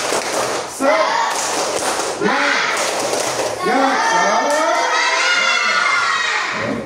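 A classroom of students shouts a rhythmic clapping cheer in unison, loud and close, with repeated chanted phrases over sharp claps and a lively group voice throughout.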